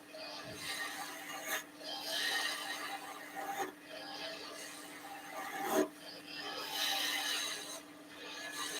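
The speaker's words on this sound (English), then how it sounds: "I'm going to use point of my skew a little bit" A skew chisel cuts a wooden bunny on a lathe, making quiet repeated rasping, scraping strokes over a constant low motor hum, with brief knocks between passes.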